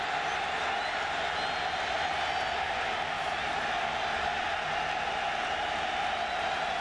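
Stadium crowd noise at a 1997 college football game between Michigan and Iowa: a steady, dense roar of the crowd that never lets up, with a commentator's voice over it.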